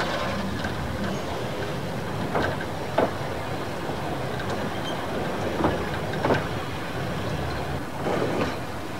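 Steam train running along an old line with cuttings and viaducts, a fairly quiet, steady rumble of rolling wheels broken by occasional sharp rail clicks and knocks.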